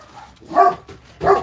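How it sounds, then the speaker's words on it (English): Dogs bark in two close, loud, separate yaps about a second apart, with no talking. "they're barking because the grooming dog's getting moved from the bathroom to the grooming room"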